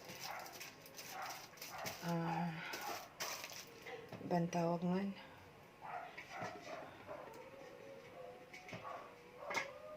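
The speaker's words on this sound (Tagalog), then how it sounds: "Ano ba naman itong mga aso na to? Nag-aalulong, nakakatakot naman sila." Drawn-out, wavering dog howls rise twice over a person talking, with background barking and scattered clatter.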